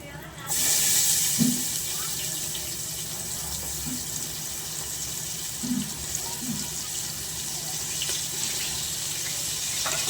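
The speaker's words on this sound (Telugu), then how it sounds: "నూనె వేడైపోయిందండి ఉల్లిగడ్డ వేసుకుందాం" Chopped onions drop into hot oil with bay leaf for a goat head curry. A loud, steady sizzle starts abruptly and hisses on without a break, with a few soft clinks underneath.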